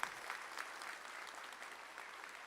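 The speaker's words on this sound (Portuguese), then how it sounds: "poderia gentilmente dar uma salva de palmas ao Senhor Jesus" A church congregation claps for Jesus in a steady, even round of applause from many hands, heard from a distance, quiet and unbroken by speech.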